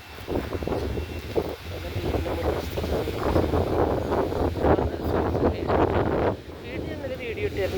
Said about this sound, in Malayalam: ഇവിടെ ഭയങ്കര കാറ്റാണ് ഭയങ്കര കാറ്റുള്ള സ്ഥലം